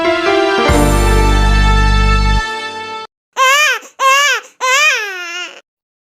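A newborn baby boy cries in three short, close wails that rise and fall, each separated by brief silences, after a few seconds of a sustained tone.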